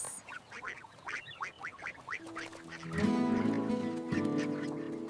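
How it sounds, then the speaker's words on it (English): Ducks quack in a rapid, repeated, nasal chatter at close range, a busy series of calls that grows louder and denser partway through as more birds join in, heard with no talking. "Come this way, little ducks."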